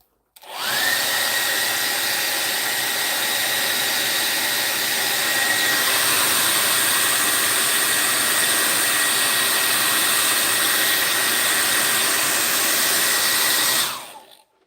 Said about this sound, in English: I'm just going to hair dry.